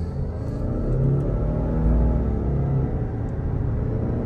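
A 2022 Subaru Outback Touring XT's CVT engine drones at a steady, nearly constant pitch under hard acceleration, a muffled low rumble heard from inside the cabin with no talking.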